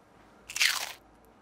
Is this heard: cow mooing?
no